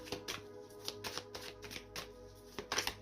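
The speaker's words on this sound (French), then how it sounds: "On va faire une coupe pour voir votre énergie actuelle du moment." Tarot cards being shuffled and cut by hand, a quick run of crisp riffling flicks and soft slaps in an uneven rhythm, close and fairly quiet with no talking.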